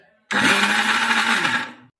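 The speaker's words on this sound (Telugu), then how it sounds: "మిక్సీ మరీ మెత్తటి పేస్ట్ లాగా కాకుండా కొంచెం పలుగ్గా చేసుకుందామండి" A mixer grinder grinding bitter gourd to a coarse powder starts abruptly and runs loud and steady for under two seconds, a dense whirring roar with a low hum, then cuts off.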